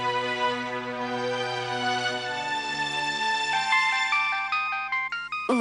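A bright electronic phone ringtone plays a sustained melodic tune, loud and steady, with the notes shifting toward the end.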